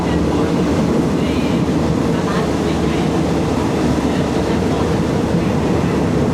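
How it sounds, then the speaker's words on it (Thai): A steady, loud rumble of a train running on rails fills the whole stretch, heard from inside the train, continuous and close, with faint voices underneath. "ต้องห่างกับเสียงรถไฟ"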